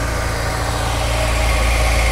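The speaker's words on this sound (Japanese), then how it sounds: "はい、エンジンかけてみました。" A Honda S2000 AP1 Type V with an aftermarket muffler sits idling just after start-up, giving a steady, close, even low rumble with a fine rhythmic pulse and no voices.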